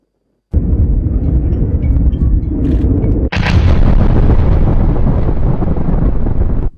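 Turkish military strikes hit shelters and weapon positions in the Zap region of northern Iraq: a loud, sustained roar of blast rumble starts abruptly, then a sharper second burst midway swells into continuous booming noise.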